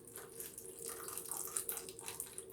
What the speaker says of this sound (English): I am going to put water on the side